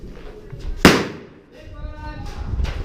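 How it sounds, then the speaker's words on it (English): An airsoft grenade bursts with a single sharp, loud crack during an outdoor skirmish game, followed by shouting players. "Good grenade."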